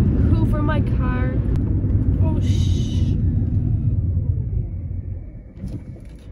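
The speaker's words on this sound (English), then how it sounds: "that car almost just drove into me" A car passes very close on a street, a loud broad rumble swelling and then fading over several seconds, with a brief voice near the start.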